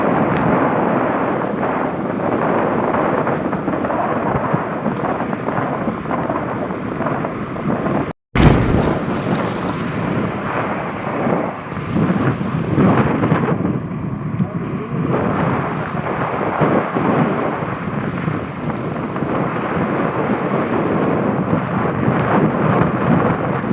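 Steady, loud rain with rolling thunder beside the Bharathapuzha river, buffeted by wind across the microphone and broken by a brief dropout partway through; faint voices may sit under the downpour.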